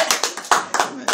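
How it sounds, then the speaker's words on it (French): A handful of separate claps at a French religious talk, about six sharp hand strikes in an uneven rhythm, close and distinct. "Oui, applaudir de temps en temps quand même."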